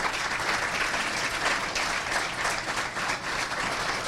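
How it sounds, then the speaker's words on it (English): A steady round of applause from a crowd at a 2025 State of the City address, dense and continuous clapping at moderate volume throughout, with no voices over it. "So great round of applause"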